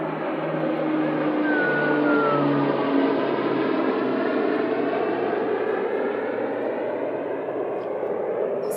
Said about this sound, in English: There's an airplane going above my head right now.